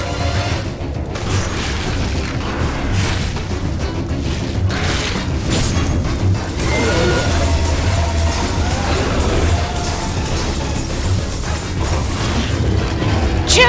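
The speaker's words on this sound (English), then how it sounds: "Just how many more missiles can this bastard take?" Missiles striking a boss in the Metroid Dread video game give a dense, continuous run of booming impacts and mechanical blasts that stays loud throughout, with game music and effects mixed in.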